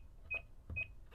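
Three short, bright electronic beeps sound in quick succession with soft button clicks as an Interlogix Simon XT alarm panel keypad is used to disarm, close and clear against a quiet background.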